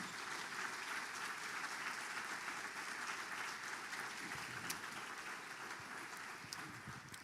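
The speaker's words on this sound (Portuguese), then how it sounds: "dá ao Senhor a sua melhor salva de palmas" A church congregation at a communion service gives a sustained round of applause, steady and even but faint and distant.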